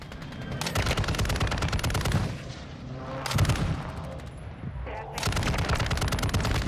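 Video game gunfire, rapid automatic bursts of shots in three close loud volleys separated by short pauses.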